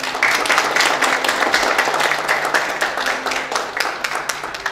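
Loud, steady applause from an audience at a sports awards gala in Cieszyn County, Poland, dense clapping sustained for several seconds without a break.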